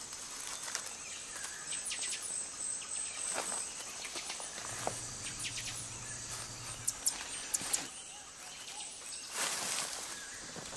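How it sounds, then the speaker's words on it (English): Night-time insects and frogs chorus in a tropical forest, a steady high shrill hum with scattered faint clicks and chirps, soft and continuous with no talking. "It's easy to nod off when serenaded by a chorus of frogs and insects."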